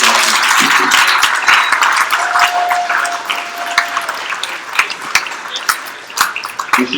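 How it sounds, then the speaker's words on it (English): Applause from a crowd at an astronomy talk held in a bar, starting dense and loud then thinning into scattered individual claps, with a brief ringing tone and clinking in the room. "Please give a big round of applause for"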